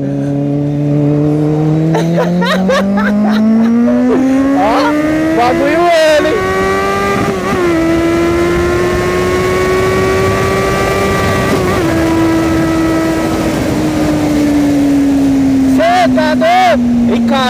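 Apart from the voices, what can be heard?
Kawasaki Z800 motorcycle riding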